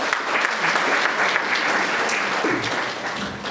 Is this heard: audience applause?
yes